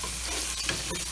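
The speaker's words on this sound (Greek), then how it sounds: "και θα ρίξουμε εδώ και τις γαρίδες μας για να πάρουν μια γεύση από το κρεμμύδι" Shrimp sizzling in a pan of hot oil with onion, a dense, steady frying hiss heard close up with faint stirring scrapes and no talk.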